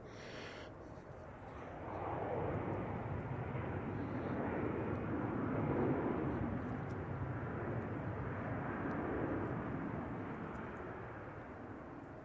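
A jet airliner taxis toward runway 28 Right for departure at San Francisco International Airport, a distant, steady low rumble that swells gently and fades again, with no talk over it.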